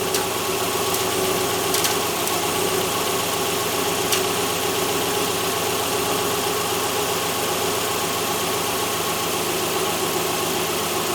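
A 2009 Subaru Forester engine with a variable valve timing fault code P0028 runs steadily at idle, a close, even mechanical hum and drone with faint ticking and no talk over it.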